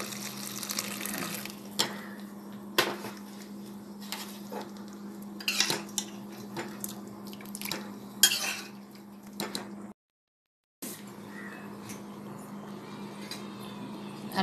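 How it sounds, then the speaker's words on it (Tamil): A metal ladle stirs kuzhambu curry in a pot, clinking and scraping in uneven strokes over a steady low kitchen hum, with one brief gap of silence. "நல்லா கிண்டணும்."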